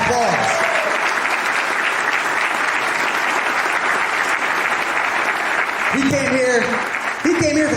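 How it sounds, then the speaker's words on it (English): An audience gives sustained, loud applause for the president of Urban Rugby America, with a few voices speaking over the tail end. "a round of applause"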